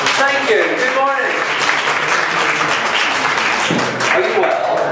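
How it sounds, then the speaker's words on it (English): An audience at a Paris cookbook fair claps steadily to welcome a speaker, full applause filling the room while voices talk over it. "please welcome James McIntosh with a big applause"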